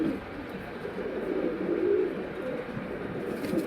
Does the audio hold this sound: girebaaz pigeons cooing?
yes